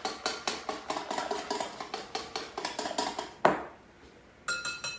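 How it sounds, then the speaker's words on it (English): A whisk clatters quickly and rhythmically against a bowl while milk and vanilla are mixed, with sharp metallic taps close by, a louder clank, a brief pause and then more tapping. "I'm going to give those a good whisk just to incorporate them"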